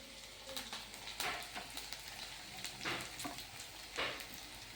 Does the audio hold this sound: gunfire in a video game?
no